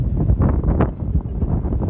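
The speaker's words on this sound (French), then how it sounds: "Vous voyez le vent, vous entendez" Strong wind gusts buffet an outdoor garden full of potted plants, producing loud, low, roaring blasts of air that rise and fall unevenly across the moment without any clear speech.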